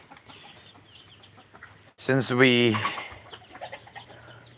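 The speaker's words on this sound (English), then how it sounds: "we only have this few chickens left who have waited for the food to be served to them" Backyard chickens at feeding time, waiting to be fed, give a loud close squawking call of about a second amid softer clucks, with a person talking quietly before and after.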